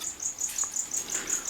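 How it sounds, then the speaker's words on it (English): Crickets kept in a dark gecko enclosure chirp in a regular pulsing rhythm, about six evenly spaced shrill bursts a second, close and clear, with no talking. "Our crickets are here."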